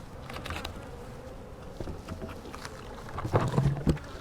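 Honey bees buzz around a hive, a faint steady insect drone with a few louder passes close by near the end.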